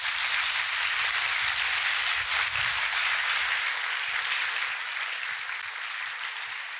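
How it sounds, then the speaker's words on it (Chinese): Applause from an audience welcoming a speaker onto the stage at a talk event, a dense continuous clapping that holds steady and then slowly fades. "让我们掌声欢迎陈峰"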